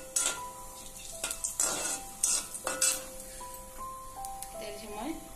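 Onion and garlic fry for dal, a soft sizzle punctuated by several sharp spoon-against-pan stirring clacks, with a voice speaking underneath.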